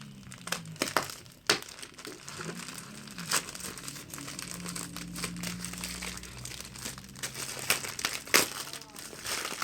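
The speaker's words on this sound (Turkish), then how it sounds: "O yüzden bıçakla açmayı tercih ediyorum." A knife slicing open a plastic AliExpress mailer package, with loud crinkling, tearing and rustling bursts scattered across the clip, close and without talk.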